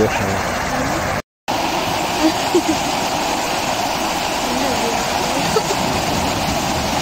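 A 2023 Honda BR-V fords a river at a campsite, with loud, steady rushing and gurgling water throughout, broken by a brief gap; people talk faintly in the background.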